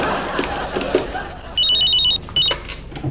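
A telephone rings with a warbling electronic trill, two bursts close together following some faint rustling.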